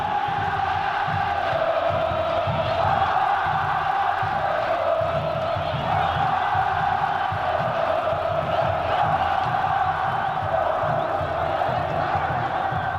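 A stadium full of Vasco football fans cheers and chants in a sustained, loud roar, with swells of whooping and bellowing rising from the dense crowd noise over the whole stretch.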